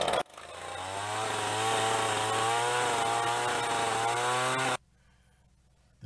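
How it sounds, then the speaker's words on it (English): A brand-new chainsaw roars at steady high revs for several seconds in a wooded spot, then cuts off abruptly into near silence before a brief restart at the end. "brought me a new chainsaw."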